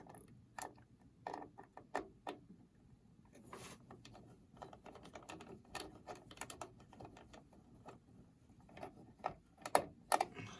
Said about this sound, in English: then you take the screw and just screw it in